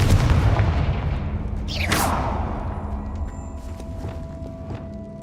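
A Confringo blasting spell goes off in a video game with a sharp whooshing burst about midway, over a dense, rumbling roar that slowly fades away.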